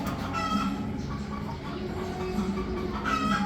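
Hens and pullets cluck softly and constantly in a breeding pen, many birds at once at moderate distance, with a steady low farmyard hum underneath.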